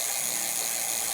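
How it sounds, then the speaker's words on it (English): Velotric Discover 1 step-through e-bike wheel coasting, its freewheel ratchet giving a steady fast clicking buzz, close and continuous without voices. "And this is it coasting."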